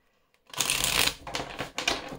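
Béline oracle cards are shuffled close by in a dense, riffling flutter lasting under two seconds, with a few crisp flicks as it tails off.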